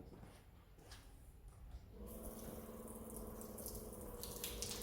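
Water sheets off car paint waxed with Soft99 carnauba wax. A faint wet hiss swells midway into a steady, fuller rush of running water that carries on to the end.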